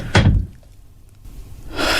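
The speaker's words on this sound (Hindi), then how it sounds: "और मैंने दरवाजा बंद कर लिया।" A house door is shut with a single heavy thump near the start, followed by a quiet lull and then a rising wash of broadband noise.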